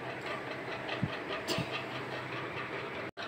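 Water boils in a pot while drumstick chorchori cooks, a steady, dense bubbling hiss with a few soft pops near the start and a brief dropout near the end.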